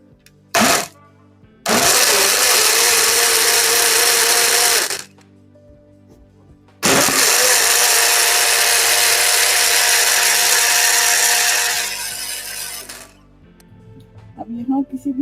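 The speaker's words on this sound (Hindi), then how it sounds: "ये मिर्चें हैं, इनको अब मैं ग्राइंड करूंगी दोनों को।" An electric grinder whirs loudly in two long bursts while grinding chillies for a homemade tomato chutney, with a short blip before and quiet gaps between the runs.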